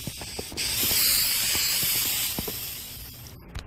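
Insecticide hissing from an aerosol spray can in a home, one long steady spray after a few short clicks and taps, fairly close and loud, then cutting off abruptly near the end.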